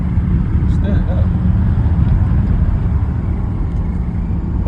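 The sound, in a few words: VW T4 2.5 ACV van engine accelerating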